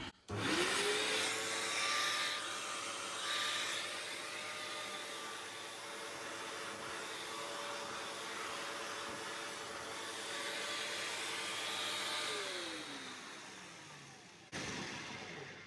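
A SEBO vacuum cleaner fitted with a mini tangle-free turbine brush runs steadily and loud for about fourteen seconds with a whining motor tone and airy rush, then cuts off near the end.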